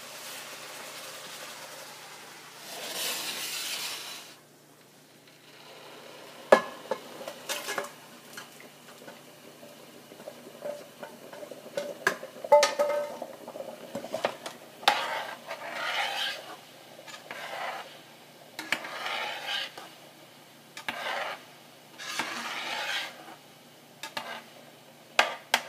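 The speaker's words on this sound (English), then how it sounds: "Now we are going to mix it with the sauce." Butter chicken being stirred into a reduced sauce in a pan, soft intermittent scraping and stirring strokes with light sizzling, quiet and close.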